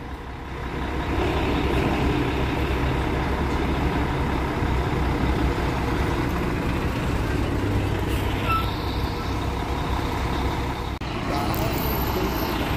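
Buses rumbling and idling at the Barra Funda bus terminal in São Paulo, a steady loud low engine drone with traffic noise throughout and a brief hiss or squeal near the end.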